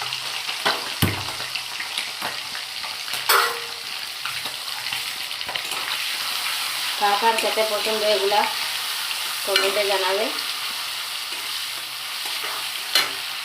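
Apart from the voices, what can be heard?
duck skin pieces frying in mustard oil in a wok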